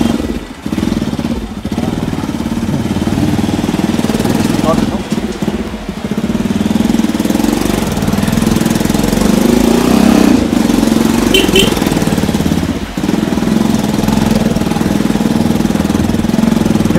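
A motorbike engine droning steadily on a rough rural road in Bhojpur, Nepal, loud and close with wind buffeting and faint voices now and then.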